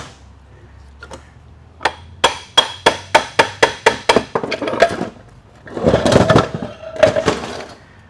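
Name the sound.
tapping 4L65E transmission parts out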